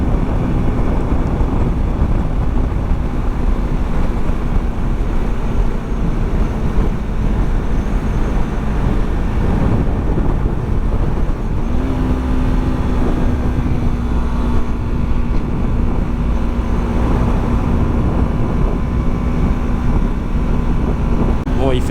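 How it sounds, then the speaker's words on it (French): Strong outdoor wind buffets the microphone in a steady, loud broadband rush for the whole stretch, with no talk over it. "C'est juste le vent là qui est un peu hard."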